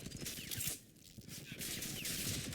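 Machine gun fire in the shooter Rage 2, rapid bursts of fairly faint gunfire broken by a brief lull, with game sounds layered over the shooting.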